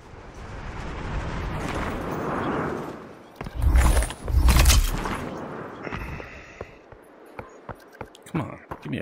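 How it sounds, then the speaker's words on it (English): Gunfire and heavy blasts in the VR shooter Population: One: a loud rumbling burst in the middle, then sharp scattered shots toward the end, with a voice talking over the first part. "they're shooting at me right now."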